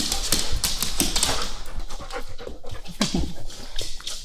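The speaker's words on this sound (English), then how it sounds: "right now, my dogs have decided to wrestle upstairs" Dogs wrestle upstairs in a house, heard as continuous panting, snuffling and scuffling with occasional thumps throughout, fairly close and busy.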